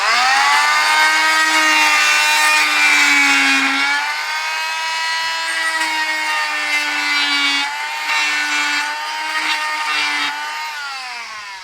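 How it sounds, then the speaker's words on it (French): A hand saw cuts a glued wooden dowel flush with a wooden piece, producing a steady, close, rasping back-and-forth stroke with a ringing, slightly shifting tone that continues for about twelve seconds with no talking. "à fleur, vous pouvez venir couper ce tourillon"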